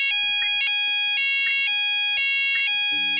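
Fire alarm sounding inside an Asda supermarket: a loud, steady electronic tone held throughout, with repeated bursts of higher pitched alert tones over it and a brief lower buzz at the end.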